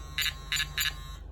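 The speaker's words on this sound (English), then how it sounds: "you can hear the alarm tone" Nash RS1 siren alarm receiver sounding its alarm tone: three short, sharp electronic bleeps in an even rhythm, close and clear over a low background hum.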